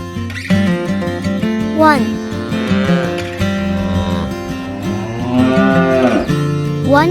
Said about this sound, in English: One cow. What does a cow do?